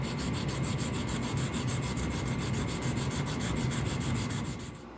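A knife blade being hand-sanded on 150 grit sandpaper, a close, steady rhythmic rasping of quick back-and-forth strokes that continues for about five seconds before easing off, with no talk.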